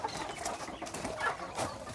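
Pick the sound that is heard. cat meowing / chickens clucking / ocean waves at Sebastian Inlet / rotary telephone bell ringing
chickens clucking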